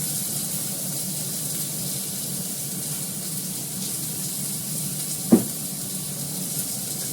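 Fish frying in a pan gives a steady, soft sizzle, broken once by a short sharp scrape of a wooden spatula stirring and a faint second touch afterward.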